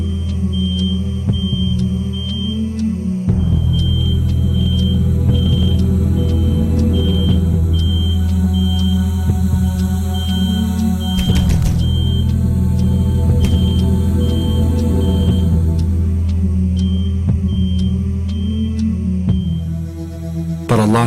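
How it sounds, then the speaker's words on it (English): A smoke alarm chirps in steady, regular high beeps over a loud, constant low hum, continuing at the same pace throughout without any voices. "The smoke alarm was in another unit"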